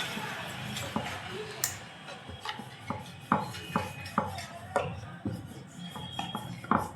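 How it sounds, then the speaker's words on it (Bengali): Dough balls for pea-filled kachori are rolled out with a rolling pin on a flour-dusted board, giving soft repeated knocks and scraping rubs at an uneven rhythm, close up with faint background noise. "এবারে একটা করে লেচি নেব আর বেলে নেব"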